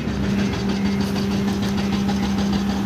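The diesel engine of a Kleemann mobile crusher runs steadily with a low, even hum and rumble, close and loud, with no speech.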